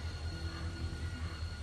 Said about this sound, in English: Train's cool, huh?